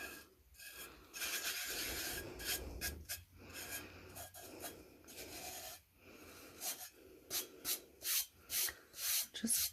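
A glitter-coated tumbler is rubbed hard against the palm of a hand, giving repeated close, raspy rubbing strokes in uneven bursts, with no talking.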